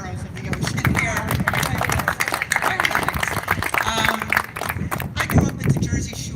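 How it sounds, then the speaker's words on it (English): Audience applause for the Clean Ocean Action group at a press conference, a steady dense wash of clapping lasting several seconds at fairly close range. "Clean Ocean Action, round of applause for them"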